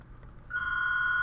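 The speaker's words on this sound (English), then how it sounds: "Oh, there's the phone." A telephone bell starts ringing partway through and holds one sustained, bright ring over quiet room noise, fairly close and clear.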